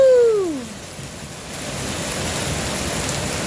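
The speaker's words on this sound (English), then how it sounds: "Phoenix actually gave us some rain" Rain falls at night in Phoenix, a steady soft hiss of drops that builds after a brief falling whine fades at the start, with no talking.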